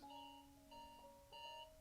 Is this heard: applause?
no